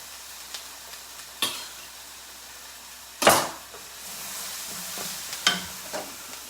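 Mushrooms frying in a pan, a low steady sizzle with a few sharp stirring scrapes and clatters, one louder scrape in the middle.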